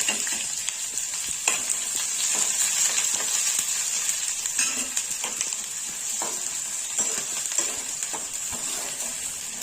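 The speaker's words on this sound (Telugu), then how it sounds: "ఇదిగోండి ఆయిల్ హీట్ ఎక్కిన తర్వాత మనం ముందుగా కట్ చేసి పెట్టుకున్న ఒక ఆనియన్ వేసేసుకోవాలి" Cut onion frying in hot oil, a dense steady crackling sizzle with occasional stirring scrapes, close and continuous, no speech heard.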